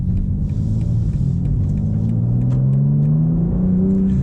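Turbocharged inline-six of a 2023 BMW M4 CSL pulling hard under acceleration, a loud steady engine drone with rising pitch as revs climb, heard from inside the car with no talking.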